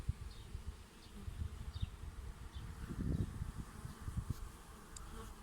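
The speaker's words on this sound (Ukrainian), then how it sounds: "Бжоли перейшли у вулик, залишилось тільки кілька десятків у роїловці. Вони перейдуть. Деякі вже облітаються і включаються в роботу." A swarm of honeybees entering a hive buzzes in a steady, dense drone, with individual bees flying close by and passing the listener.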